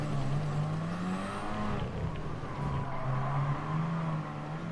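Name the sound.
car skidding in the video game Gran Turismo Sport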